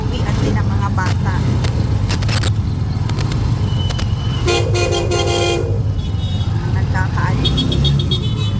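Heavy car traffic in front of a school at dismissal time rumbles steadily nearby, with several short car horn toots and a longer honk, while people talk over the engine noise.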